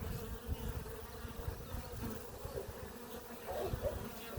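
A honeybee swarm fills the air with a low, continuous buzzing hum, many insects droning together at moderate distance, soft overall with no voices.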